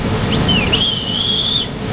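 A furnace filter whistle, sounding because the filter is over half clogged, gives a thin, high tone that rises and then holds steady for about a second over a constant airy hiss before cutting off.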